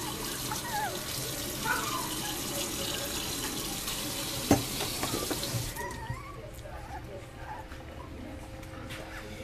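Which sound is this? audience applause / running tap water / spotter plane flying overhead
running tap water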